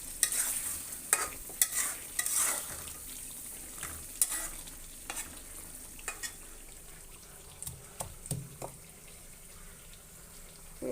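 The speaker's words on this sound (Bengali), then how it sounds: "আর এখানে আমি মাংসটা বসাই দিছি, কষানো হয়ে যাচ্ছে" Marinated chicken braising and being stirred in a pan for a deshi-style chicken kosha, with soft intermittent scraping and stirring clicks over a faint sizzle, fairly quiet and close, no talk.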